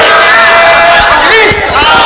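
A large crowd at a religious conference bellows a slogan in unison, a loud, brief roar of many voices shouting together at close range.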